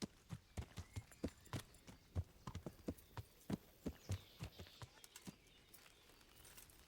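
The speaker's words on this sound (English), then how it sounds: "There's a horse coming the other way." Horse hooves in the video game Kingdom Come: Deliverance clip-clop at a walking pace, a steady run of hollow knocks that fades out toward the end, faint and without voices.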